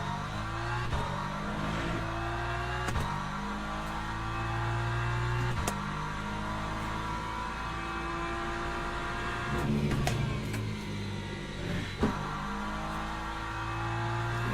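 Hypercar engine in the Le Mans Ultimate racing game, a steady loud drone with stepped pitch shifts as gears change and revs rise and fall, and brief sharp bursts near the end, no talk over it.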